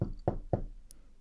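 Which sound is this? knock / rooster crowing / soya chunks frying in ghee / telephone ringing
knock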